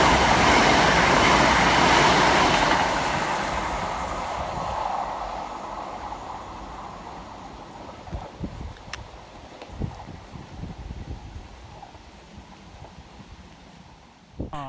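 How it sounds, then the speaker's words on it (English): Two Southern class 377 electric trains rush through Anerley station in stormy weather, with a loud sweeping roar that slowly fades into rattling wheel clicks and wind buffeting the microphone. "Next flying through the station for Southern is 377 153 and 377 408"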